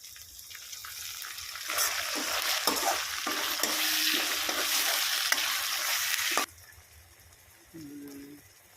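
Ground spice paste added to frying onions in a pan for a light home-style chicken curry, loud close sizzling with stirring scrapes, then a quieter stretch with a brief scraping sound near the end.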